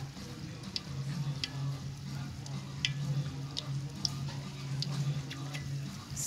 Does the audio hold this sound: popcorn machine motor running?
no